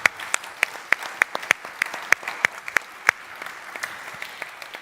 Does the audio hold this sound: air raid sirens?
no